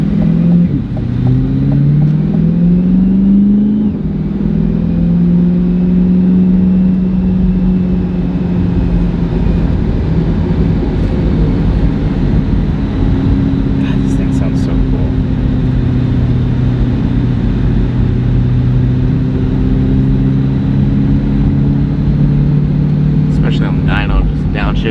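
Supercharged Corvette C8 with a short straight-pipe exhaust, droning loudly up close as its engine climbs and settles through gear changes, a steady deep rumble with rising pitch sweeps; people talk briefly.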